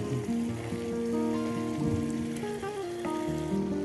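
Chicken pieces added to a pan of spices and curry powder, sizzling and crackling steadily and close up, with faint clinks of a utensil over the hiss.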